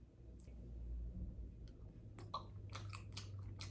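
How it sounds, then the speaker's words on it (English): Close, soft chewing and biting of food during a mukbang, with a few crisp crunchy clicks and smacks in the second half over a low steady background hum; no talking. "enjoy me eating mukbang"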